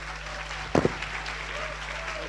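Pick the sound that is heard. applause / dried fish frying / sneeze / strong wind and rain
applause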